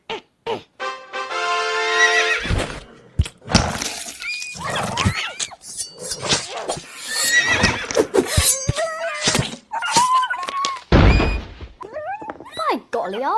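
A horse in a video game whinnies loudly and at length while heavy thuds and clattering hooves punctuate a chaotic fight, with game voices and cries mixed among the neighs.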